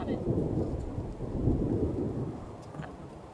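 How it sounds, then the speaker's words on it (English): Thunder rumbles low and continuously over a campsite at Vedauwoo, with a rain-like hiss layered on top of the rolling rumble. "It is thunderin'."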